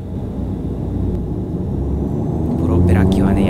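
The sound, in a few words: propeller airplane taking off from Itami Airport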